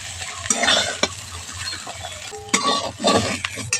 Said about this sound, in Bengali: ফুলকপিগুলো আমি এবার তুলে নিচ্ছি।